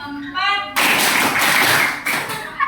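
A fifth-grade primary school class claps in unison, a dense, loud burst of many hands that follows a brief spoken count and continues steadily to the end.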